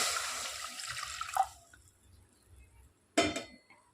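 Water poured from a tumbler into a pan to make sugar syrup for ghee Mysore pak, a close splashing pour that tapers off, followed by a short pause and a second brief splash; no talking.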